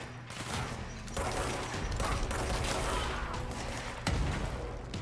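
Grenade launcher fire in the Control video game, a loud, dense barrage of blasts and booms with heavy impacts around the first and fourth seconds, continuous and close with no talking.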